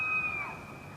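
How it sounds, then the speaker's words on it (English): A male elk bugles in Yellowstone, a faint, distant high whistle heard over a soft background hiss. "the sound of the elk bugle"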